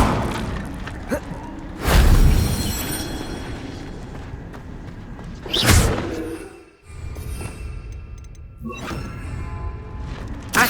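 Confringo blasting spells in the Hogwarts Legacy video game: two sharp, loud booms a few seconds apart, each with a brief rumbling tail, amid game ambience, whooshes and a fainter thump later on.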